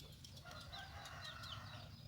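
A rooster crows faintly in the distance in a rural outdoor setting, the call drifting over a quiet background with no speech.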